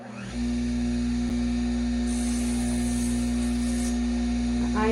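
A vintage bench grinder converted into a burnisher runs with a steady motor hum while it polishes the beveled edge of a small leather test piece, with a brief higher whir of contact partway through.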